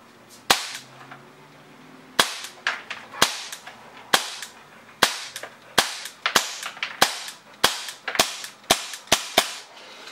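A Volante Stratos 1911 airsoft pistol fires about sixteen sharp, loud, close snapping shots, first spaced apart, then in a quicker irregular run with brief pauses, and no voices.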